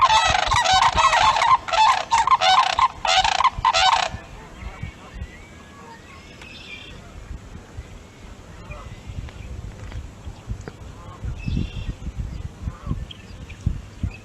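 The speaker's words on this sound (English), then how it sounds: "they're doing a unison call" Sandhill cranes give a unison call, loud rattling bugling calls overlapping in quick bursts for about four seconds, followed by quieter scattered distant calls and faint outdoor background noise.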